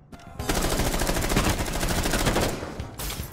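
Rapid automatic gunfire in Rainbow Six Siege, a loud, dense burst of closely spaced shots running for about two seconds, then a brief pause and another short volley.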